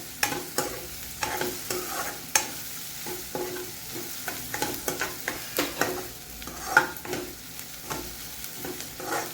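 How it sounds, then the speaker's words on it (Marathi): Ginger garlic paste sizzles in a pan while a spoon stirs it, giving repeated sharp scraping clicks over a low, steady frying hiss, close up and with no talking. "अद्रक लसूण पेस्ट टाकतो। मिक्स करून घ्यायचं आपल्याला।"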